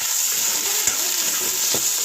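Tomatoes with ginger, garlic and cinnamon stir-fry in a little oil for an oyster mushroom curry. A steady hiss continues throughout, broken by a couple of soft stirring scrapes.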